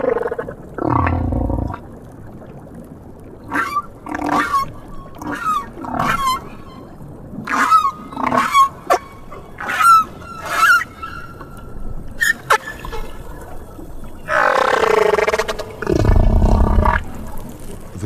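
Humpback whale song in the South Pacific: a long underwater series of drawn-out moans, rising whoops and deep groans, separated by short pauses, fairly loud and with no voices.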